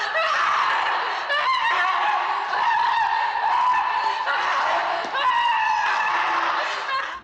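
An actress in the horror film Possession lets out shifting, strained cries and shrieks, close and loud, in a continuous run with harsh breaks between outbursts.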